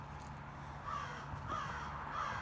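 Three faint caws from crows ring out in the distance at roughly even intervals over a low outdoor hum, near a run-down property.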